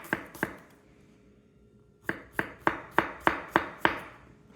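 Onions are chopped with a knife on a board in crisp, evenly spaced taps, two quick cuts, a pause, then a steady run of about seven close strokes.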